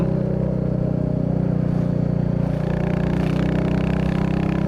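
A 2024 Royal Enfield Bullet 350 single-cylinder motorcycle drones steadily while riding on a road, a low, even thumping engine rumble with a constant, unbroken tone and no voices over it.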